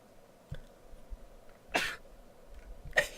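A painting in the horror game Ib lets out two short, sharp sneezes, spaced about a second apart over a quiet, faintly humming background.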